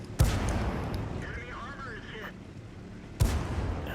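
Tank cannon in a video game, such as an SU-152, booming twice about three seconds apart with heavy, sharp blasts over constant engine rumble and battle noise, while someone talks in the background.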